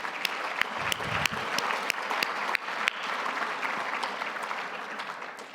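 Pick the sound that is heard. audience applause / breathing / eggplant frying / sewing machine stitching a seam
audience applause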